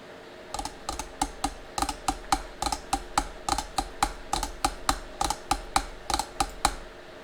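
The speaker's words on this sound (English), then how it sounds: "we're going to type in File Explorer" Keys clack on a computer keyboard in quick, irregular bursts of typing, close and crisp, with brief pauses between clusters of keystrokes.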